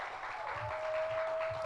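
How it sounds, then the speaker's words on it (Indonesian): Applause rises steadily through a church worship service, a dense, continuous wash of clapping from the congregation with a sustained tone running beneath it. "ya mah kasih tepuk tangan lah"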